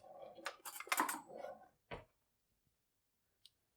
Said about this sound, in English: Get some tongs and a fork.